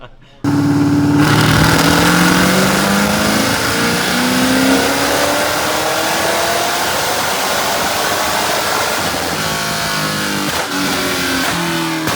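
Cammed Camaro SS V8 roars close and loud as it accelerates, pitch climbing through a long pull with a lopey rumble before easing off near the end.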